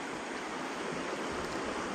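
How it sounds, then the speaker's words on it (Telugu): Hill water pouring down through a gap between slopes in a forest, a constant close rushing roar of stream flow, even in level throughout. "కొండల మధ్యలోంచి వాటర్ వస్తుందన్నమాట."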